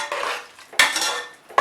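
Metal utensil scraping and clinking against a pot of salted water for mushroom biryani in a few separate bursts, close and fairly loud, with no voices.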